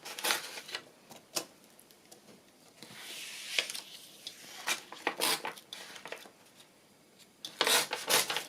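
Scissors snipping a piece of paper for a handmade tag booklet, with a run of close, crisp cuts and rustling paper between them, and no talking.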